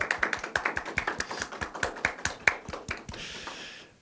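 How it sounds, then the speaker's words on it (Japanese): A sparse audience at the close of a BIM manager event claps, a few hands giving distinct, fairly regular claps that fade after a few seconds, fairly quiet. "拍手をお願いしたいと思います"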